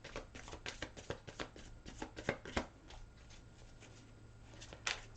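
Tarot cards shuffled by hand in a quiet room, a run of crisp riffling snaps and soft slaps bunched in the first half, then a steady light rustle with one final sharp flick near the end.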